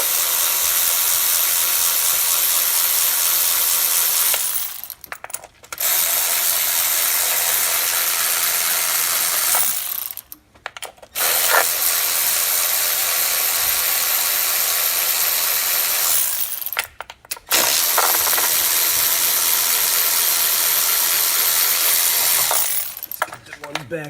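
A ratchet clicks rapidly and continuously while loosening bolts on a 2011-2016 Ford F-150 3.5L Ecoboost engine during a timing set replacement, in three long close-up bursts separated by short pauses.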